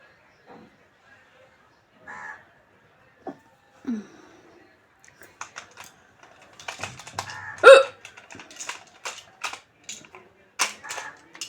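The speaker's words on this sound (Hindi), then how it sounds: "हिचकी" Scattered hiccups come in short, separate bursts with quiet gaps between them, heard close up, while clicky, typing-like taps and brief voice sounds fill the later part.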